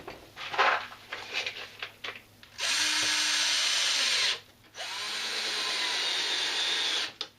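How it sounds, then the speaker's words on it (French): Power drill driving screws to fix plastic cable trunking to a wall, with two long sustained whirring bursts after some brief handling knocks, close and loud. "Donc je visse ma goulotte tout de suite."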